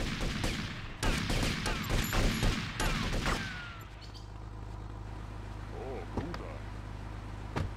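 Gunfire in Grand Theft Auto: Vice City: a loud burst of rapid shots rattles for about three seconds, then gives way to a low engine-like hum and scattered faint clicks.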